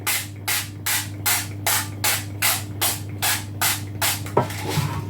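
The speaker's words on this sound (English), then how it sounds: "I use a spritzer of local rapeseed oil." A handheld spritzer mists local rapeseed oil onto baking paper lining a tin, giving about ten even, rhythmic hissing pumps close up, followed by a soft clatter as the bottle is set down.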